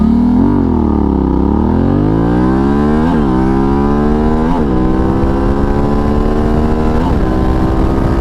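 Middleweight adventure motorcycle on knobby tires accelerating hard on a street, loud close engine climbing in pitch through several gear shifts, each shift briefly dropping the tone before it rises again.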